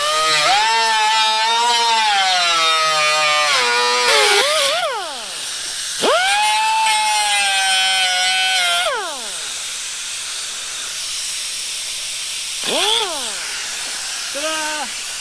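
A Ford F1 shop truck does a burnout inside a workshop, its engine revving up and down in long surges over a constant hissing roar of spinning tires.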